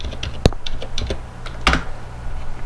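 Close keyboard typing in an irregular run of sharp clicks, with a couple of louder keystrokes standing out; no talking.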